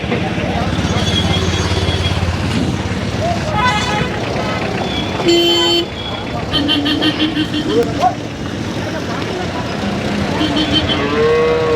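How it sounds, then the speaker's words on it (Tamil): Kangeyam-breed cattle mooing at a busy Saturday livestock market in Kundadam, Tiruppur, several low drawn-out moos at mid distance over constant crowd chatter, with vehicle horns and engine noise in the background. "மாடுகள்லாம் வந்துட்டு இருக்கு."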